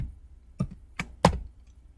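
A few separate keystrokes on a computer keyboard, three distinct clicks spaced roughly a quarter to half second apart, fairly close and quiet over faint background hum.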